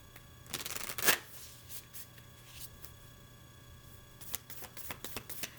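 Tarot cards are shuffled close by in a few quick riffling bursts, with a sharp snap near the start and lighter flicks later against a quiet room hum, no talking.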